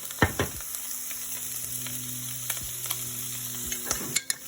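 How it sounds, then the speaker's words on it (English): Spaghetti being stirred with sauce and cheese in a skillet makes soft, quiet scraping strokes over a faint sizzle, with a few clearer clicks of the utensil toward the end. "So I'm going to stir this up"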